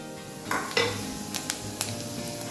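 Onions dropped into garlic frying in a pan, a soft sizzle with a few clinks of a spoon against the pan and brief stirring scrapes, close and fairly quiet with no talking.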